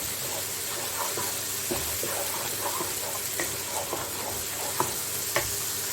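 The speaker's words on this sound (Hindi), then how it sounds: "ताकि मसाला सही भुन जाए" Masala with a spoonful of water sizzles steadily in a hot pan, broken by scraping strokes of a spoon stirring it, close and continuous.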